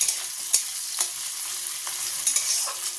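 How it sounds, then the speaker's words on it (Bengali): Onions frying in hot oil in a home kitchen, a steady high sizzle running throughout with a few sharp stirring scrapes and clinks, close and alone with no talk. "তেল গরমও হয়ে গেছে। পেঁয়াজ দিয়ে দিলাম"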